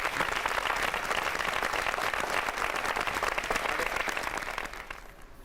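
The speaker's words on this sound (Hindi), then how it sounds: "थोड़ा जोरदार तालियां एक बार।" An audience at a poetry and lyric event claps loudly and steadily in dense applause that fades out near the end, with no speech over it.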